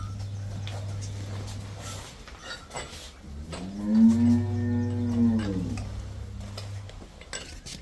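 A pregnant cow on a farm gives a single low, drawn-out moo close by, over faint background clatter.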